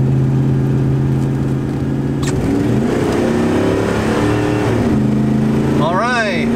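A truck with a Mopar 360 engine pulls up a steep hill, a steady mid-pitched engine drone under the driver's talk, climbing in pitch near the end.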